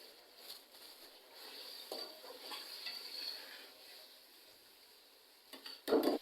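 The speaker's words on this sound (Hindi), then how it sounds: "कलेजी को हमने इस ऑयल में अच्छे से फ्राई करना है।" Chicken liver frying in oil in a pot with whole black cardamom, a steady soft sizzle with light stirring and utensil scrapes, ending in a louder clatter of metal.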